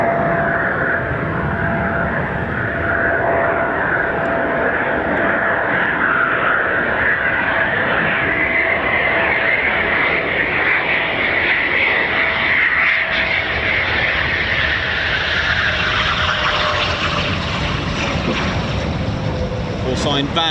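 A Eurofighter Typhoon FGR4 jet of 12 Squadron comes in to land at RAF Coningsby, its engines a loud, steady, continuous roar that shifts slowly in pitch throughout.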